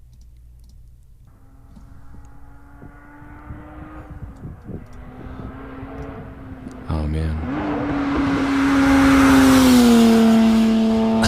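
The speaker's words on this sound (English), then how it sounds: "It's a very good sounding V6." A V6 car recording plays back in a podcast studio, a rising engine note building into a loud, close flyby roar that sustains to the end, with a brief remark from a man early on.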